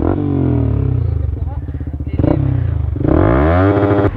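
A Sniper 155 motorcycle with an Aracer Mini X ECU revving close up, its pitch climbing and falling in throaty waves, loud and sustained with a surge near the end.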